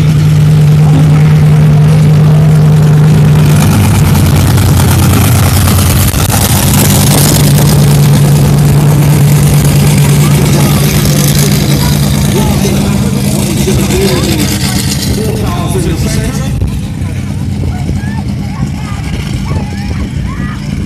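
A 1,500-horsepower monster truck engine rumbles steadily as it warms up at a truck show, a loud, deep drone with some revving, and voices carry over it throughout.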